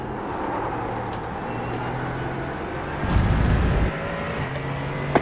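An LMP3 prototype sweeps past on the right at Road Atlanta during a sports car endurance race, its loud engine surging for about a second over the steady drone of the driver's own car.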